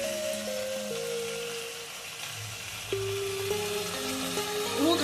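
Chicken cooking in a pan with cashew paste added sizzles and fries steadily and close, with music playing over the frying.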